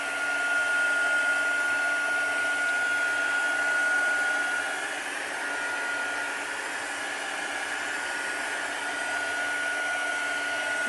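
A hair dryer blows steadily on an altered craft box, a loud continuous whoosh with a thin high whine that eases slightly partway through and holds on to the end.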